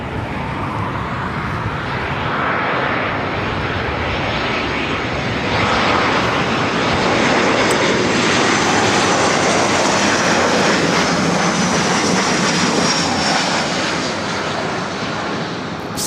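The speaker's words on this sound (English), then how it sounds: "3207 coming in from San Francisco on a 737-700." A Southwest Airlines Boeing 737-700 arriving from San Francisco comes in to land at LAX, its engine roar broad and steady for the whole stretch and swelling louder toward the middle as it passes close.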